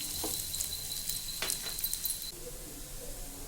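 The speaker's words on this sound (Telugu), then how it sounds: "ఆయిల్ వేసుకొని ఇప్పుడు ఈ ముక్కల్ని వేయించుకోవాలి" Beetroot pieces frying in oil: a faint, steady hiss of sizzling with a few small pops and clicks, close and quiet throughout.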